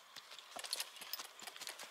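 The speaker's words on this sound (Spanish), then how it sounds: "ahora lo vamos a mostrar un poquito al trote" Chestnut horse trotting, a steady two-beat clip-clop of hooves repeating evenly, close and clear with no talk.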